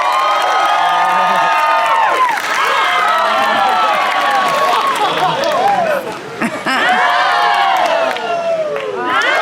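Crowd at a Renaissance festival street show erupts in loud cheering, whoops and applause for a hat-balancing trick, with many voices shouting together, a brief dip partway through before the roar picks up again.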